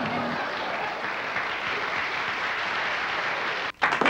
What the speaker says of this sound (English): let's have a nice round of applause for Mr.